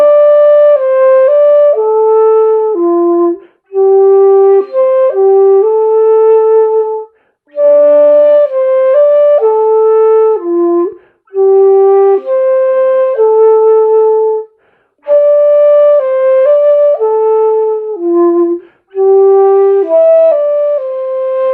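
A Chinese dongxiao flute plays a slow, breathy melody from lines 3 and 4 of "Mountain Ghost" in several phrases separated by short pauses, clear and close with no talking.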